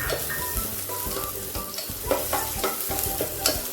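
Garlic sautéing in a pan for catfish cooked in coconut milk, a steady close sizzle broken by repeated scraping stirs and clinks of the utensil, with no voices.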